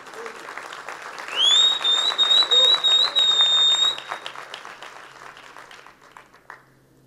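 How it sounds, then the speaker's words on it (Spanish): Clapping in a church service, building to a loud burst alongside a sustained high whistle-like tone, then fading to scattered claps and quiet. "dele ese aplauso fuerte al Señor"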